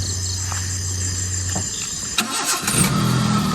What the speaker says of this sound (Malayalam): വണ്ടി ഓഫ് ആക്കി സ്റ്റാർട്ടാക്കി നോക്കട്ടെ